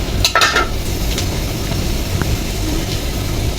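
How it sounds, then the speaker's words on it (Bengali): Onions frying in a pan during home cooking give a steady close sizzle, with a few light clinks of utensils early on. "দিয়ে খাইতে পেঁয়াজগুলো ভাজা হচ্ছে"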